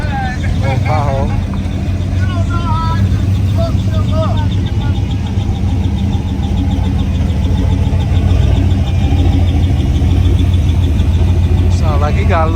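At a crowded Detroit car show, a modified car's engine idles loudly and rumbles steadily close by, with occasional revs, while people talk over it.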